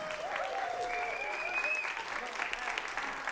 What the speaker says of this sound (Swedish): Ja, fortsätt applådera, trodde jag.